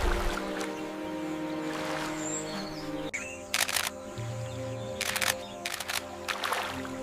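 Rapid bursts of single-lens reflex camera shutter clicks at a crocodile research site in dense jungle, arriving in several tight close-up clusters over steady humid ambience with an occasional bird call.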